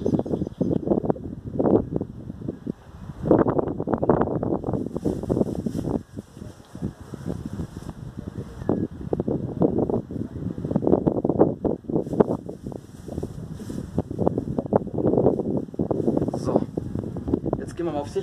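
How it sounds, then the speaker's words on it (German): Strong wind during a severe thunderstorm in Ingolstadt buffeting the microphone in heavy gusts, roaring and rumbling continuously, with someone talking over it. "Es windet jetzt hier gewaltig."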